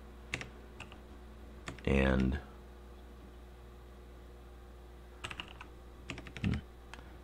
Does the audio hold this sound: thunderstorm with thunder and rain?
no